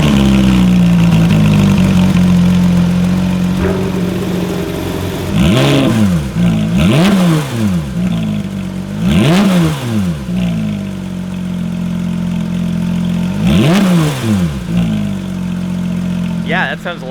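A Porsche GT3 RS with a swapped aftermarket exhaust cranks and settles into a loud steady idle, then is blipped through four sharp revs with rising and falling howls, heard close and alone.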